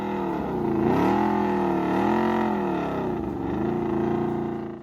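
A Yamaha V-Max motorcycle engine from 1985 revs and accelerates with a loud, close, rough growl, its pitch rising, dipping and climbing again in several waves, with no voices.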